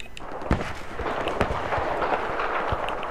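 Gunfire in the first-person shooter Battlefield 4, with sharp shots cracking over a dense, rumbling battle background and several louder reports spaced irregularly through the clip.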